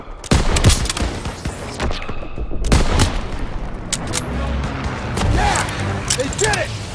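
Rapid gunfire in the Call of Duty WWII video game, loud bursts and single shots cracking through a busy battle soundscape, with voices shouting in the background.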